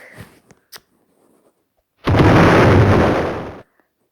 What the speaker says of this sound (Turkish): Eh, bomba atarım ben de.